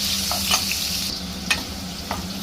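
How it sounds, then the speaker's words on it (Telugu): Pineapple pieces fry in ghee in a pan with a steady sizzle, broken by a few sharp scrapes of stirring, close and fairly loud, with no talk. "చూడండి పైనాపిల్ పీసెస్ని ఇలాగా ఫ్రై చేసుకోవాలి నెయ్యిలో."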